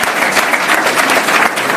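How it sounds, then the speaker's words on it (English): Warm, dense applause fills a conference hall as an audience claps for the interpreters, a loud, steady patter of many hands with no pauses. "Can we give them a very warm round of applause?"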